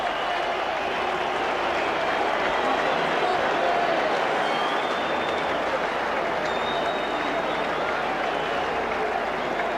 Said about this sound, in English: Perhaps rather muted applause for the All Blacks.